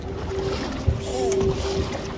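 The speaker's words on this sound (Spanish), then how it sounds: "Ahí vamos a dejarla que conduzca un barquito también." A small motorboat cruises along a canal at Empuriabrava on the Costa Brava, a steady engine drone with water slapping against the hull, a brief bump midway, and faint voices in the background.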